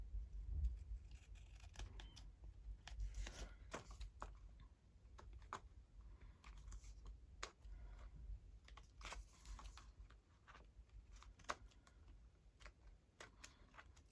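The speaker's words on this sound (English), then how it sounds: "I'll just do a teeny tiny trim here" Small scissors snip a tiny trim from a paper ephemera piece for a junk journal, giving a few quiet, close, crisp clicks and snips in sparse bursts over a low background hum, with no talking.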